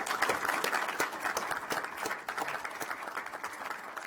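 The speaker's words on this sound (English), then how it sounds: "I'd like to offer a round of applause for the services" A crowd at a county board of commissioners meeting applauds continuously, dense overlapping claps at moderate volume that slowly ease off toward the end, with no speech over them.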